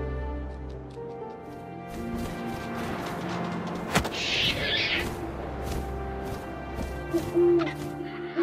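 An owl hoots softly in the video game What Remains of Edith Finch, over a quiet ambient backdrop with a sharp thump near the middle and scattered low rumbles.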